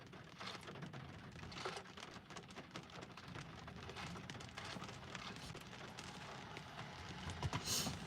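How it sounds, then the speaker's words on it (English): Early-morning thunderstorm rain patters steadily on surfaces outdoors, a faint continuous hiss with scattered drops, no clear thunder standing out. "But the thunder is still really loud."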